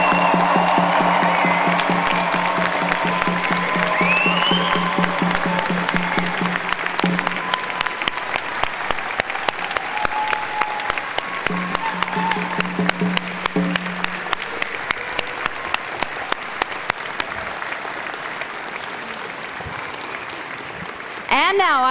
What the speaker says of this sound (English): please join me in applauding the June 2022 graduates